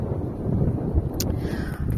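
Wind buffeting a microphone outdoors in a vegetable garden on a hot summer afternoon, a steady low rumbling roar with a brief higher rustle partway through.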